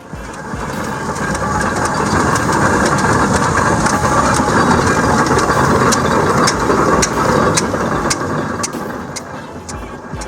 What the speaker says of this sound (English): the tractors rumbled their way into the arena